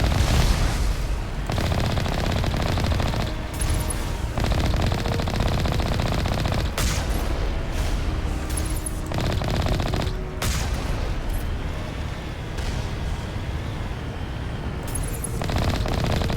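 Continuous heavy gunfire from a weapon in the video game Mass Effect 1, dense rapid bursts with brief gaps, loud and sustained throughout with no talking.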